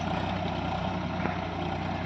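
A tractor engine rumbles steadily while driving, a low, continuous mechanical drone with a faint tick and no voices.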